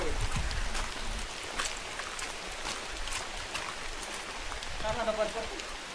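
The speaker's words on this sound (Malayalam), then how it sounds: "നല്ല മഴയാണ്" Steady rain pours down heavily around a house in Kerala, a continuous wash of drops with occasional louder patters, close and filling the scene throughout.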